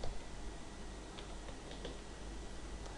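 Soft, quick keystrokes on a computer keyboard type out a short tray name, a handful of faint clicks in an irregular burst over a low background hiss.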